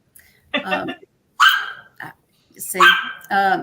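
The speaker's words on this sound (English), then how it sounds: "I have a new puppy and she's really loud and she's mad because I'm locking her out of the room" A loud new puppy barks in short, sharp bursts after being shut out of a room, several barks and yips close by in quick succession with brief pauses between.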